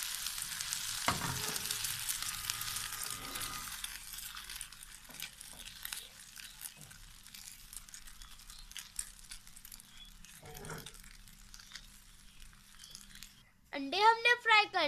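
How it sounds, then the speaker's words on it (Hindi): Egg frying in a pan for Karachi-style bun kebab, a soft steady sizzle at moderate level with occasional scraping and stirring taps, ending in a brief louder burst of sizzle. "अंडा फ्राई कर लेते हैं"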